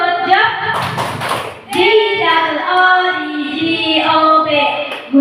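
Schoolchildren in a classroom do a rhythmic patterned clap with their hands, short bursts of clapping and taps alternating with chanted voices and a teacher's talk.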